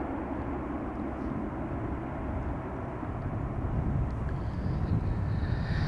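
A KLM jet landing at Amsterdam Schiphol, using only a little reverse thrust, gives a steady low rumble that swells slightly toward the end, with a faint high whine creeping in.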